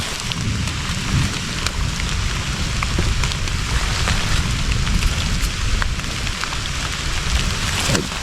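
Heavy rain pours steadily during a forest mushroom hunt, a dense and continuous hiss of drops striking the ground and foliage, loud and even throughout with scattered sharper patters and no speech.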